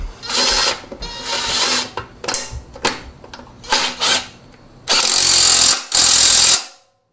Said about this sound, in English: And install the bolt for the mid-pipe.